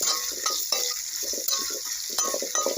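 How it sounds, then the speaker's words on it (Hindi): Sliced onion lightly frying in a pan for bhindi masala, a close crackling sizzle broken by repeated scraping strokes of a spatula and a few sharp metallic taps. "अब इस प्याज को मैं हल्की सी फ्राई कर लूँगी"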